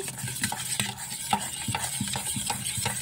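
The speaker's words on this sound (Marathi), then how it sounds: "आता हे चांगलं आपण मिक्स करून घेऊ" Milk, oil and sugar stirred together in a bowl, a steady run of soft scraping and clinking strokes repeating about twice a second, close and moderately loud with no talking.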